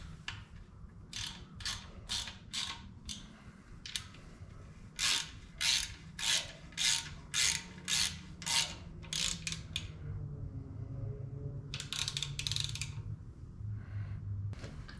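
A hand ratchet clicks in quick repeated strokes while an alternator is bolted onto a 5.3 LS V8 engine, close and crisp, in bursts separated by short pauses with faint handling sounds between.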